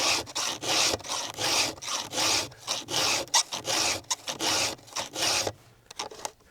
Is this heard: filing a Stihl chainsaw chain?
yes